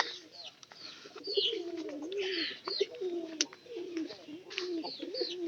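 Short-bodied pairi pigeons, fed on maize bran, coo in soft repeated, warbling low calls, several birds overlapping nearby over faint background chirps, with no talking.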